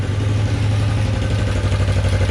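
A loud, steady bobber motorcycle engine idling high and fast at about 4,000 rpm when warm, with a constant rapid putter and slight mechanical clatter, no voices.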